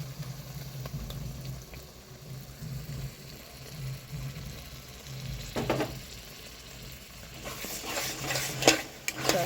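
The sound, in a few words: stirring yogurt into frying fish curry masala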